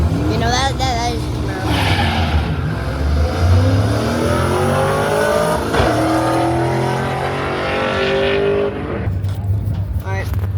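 A Chevrolet Camaro engine revs loudly at a car show with drag races, surging and falling in continuous bursts for about ten seconds while people talk nearby.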